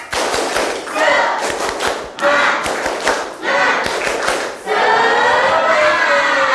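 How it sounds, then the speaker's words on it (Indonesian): A class of students performs a rhythmic clapping chant together, bursts of sharp group claps alternating with loud, shouted unison voices, the chanting growing fuller toward the end. "Oke, kita mulai tepuk semangat."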